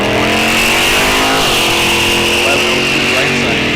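Drag race cars, a Mustang among them, roar loudly and steadily down the strip at a raceway bracket series event, the engine note rising as they pass, with an announcer's voice partly under the noise.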